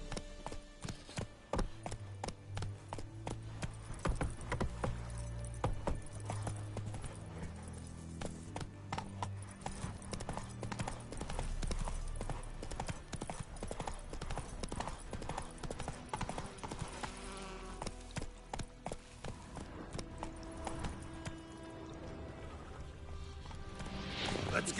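Roach the horse gallops in the video game Witcher 3, steady clip-clop hoofbeats continuing under game music with brief spoken lines.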